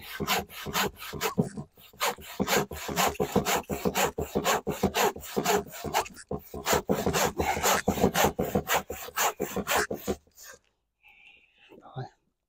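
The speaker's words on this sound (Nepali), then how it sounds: "आराले काट्दैछ है।" A hand saw cutting through material, rapid rhythmic rasping strokes that run steadily for about ten seconds, close and loud, then stop, followed by faint handling sounds.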